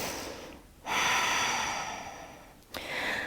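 A steady, breathy exhale during a seated yoga twist, fairly close and soft, swelling after a pause and then starting again for a second breath, with no talking.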